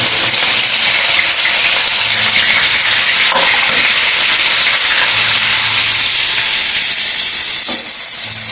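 Onions and green chillies frying loudly in hot oil for a beef curry, a steady close, dense sizzle and hiss that fills the whole stretch without pause and with no voices.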